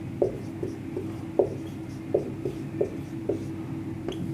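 Marker or chalk taps and scratches on a board as a word is written, a series of short, evenly spaced strokes over a faint steady hum.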